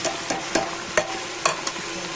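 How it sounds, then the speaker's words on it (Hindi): Saag and garlic frying in a pan under a steady sizzle, with a spoon scraping and clinking in irregular stirring strokes, close and fairly loud with no voices. "थोड़ा सा स्टर करेंगे। अब जाएगा इसमें साग, बिस्मिल्लाह। अब जाएगा इसमें गार्लिक,"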